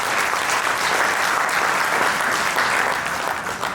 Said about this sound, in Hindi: आप अपने लिए और अपनी यूनिट के लिए और ध्वज प्रांत के लिए जोरदार तालियां बजाइए।